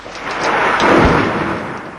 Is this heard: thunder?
yes